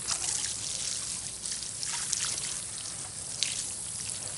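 Water trickles and splashes onto a garden bed of newly planted carrot seeds, a steady close hissing spray with small uneven bursts and no talking.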